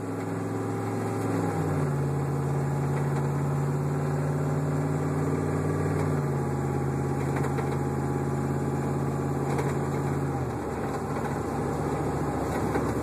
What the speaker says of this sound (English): Just a slightly tapping into the throttle. Mainly to give you a hear of what it sounds like.